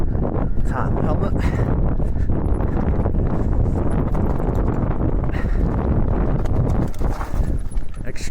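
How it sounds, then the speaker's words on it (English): Wind buffets the microphone on Blencathra's exposed mountain ridge during a steep mountain bike descent, a loud, constant rumbling roar mixed with rattling and knocking from the bike and faint speech underneath. "now the wind's picking up"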